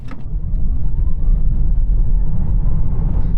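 A Tesla Model 3 Performance launching from 0 to 60, a steady low electric drive rumble with road and wind noise building loudly and holding for several seconds, no one talking.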